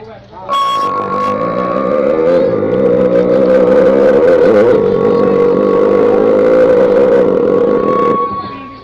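A voice imitates a motorcycle engine starting and running, a loud, sustained buzzing drone with a steady pitch held for about eight seconds, close and alone without other talk.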